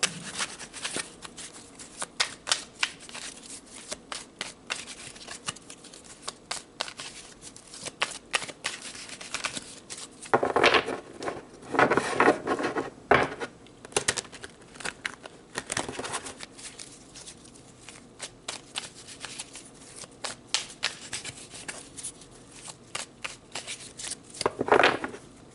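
Tarot cards shuffled by hand during a daily reading, a steady run of crisp riffling and patting bursts close up, with louder flurries in the middle and near the end.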